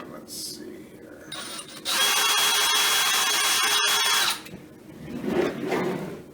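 A power drill backs screws out of a cabinet drawer front, a loud steady whine for about two and a half seconds. Talking comes before and after it.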